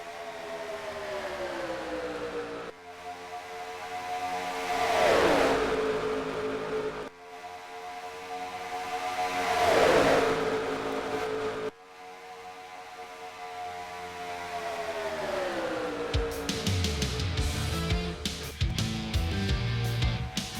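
Simulated Cup Series stock car engines roar in NASCAR Racing 2003 at a race, high sustained droning that swells and sweeps as cars pass in several waves, ending in a denser, choppier burst of engine noise.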